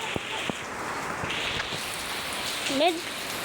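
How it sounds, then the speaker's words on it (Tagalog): Rain falls steadily in rainy weather, a continuous hiss of drops on surfaces with a few louder nearby splats, while a voice briefly sounds near the end. "Humina na naunti guys yung ulan."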